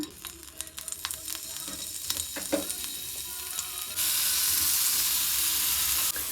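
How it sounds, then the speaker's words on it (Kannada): Cubes of paneer frying in oil in a pan for a vegetable salad: a few light clinks and scrapes at first, then a loud, steady, close sizzle that suddenly takes over and holds to the end. "ಸ್ವಲ್ಪ ಪನ್ನೀರನ್ನ ಇನ್ನು ನೀಟಾಗಿ ಫ್ರೈ ಮಾಡ್ಕೊಳ್ಳೋಣ"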